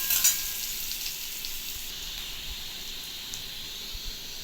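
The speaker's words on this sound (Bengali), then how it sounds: "এবার পেঁপের আলুটা একটু ভেজে নিচ্ছি" Papaya and potato frying in a pan make a steady, close sizzle and hiss, with a few faint stirring knocks and no talk.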